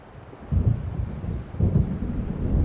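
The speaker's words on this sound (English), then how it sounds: "It seems there's a storm coming." Thunderstorm in the video game Alan Wake Remastered, with deep rolling thunder swelling twice over a steady wash of rain and wind, loud and close.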